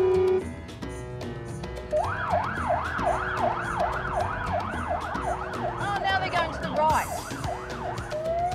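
Police patrol car siren during a highway pursuit, a loud repeating wail cycling steadily for several seconds over road and engine noise, with a short horn-like blast near the end.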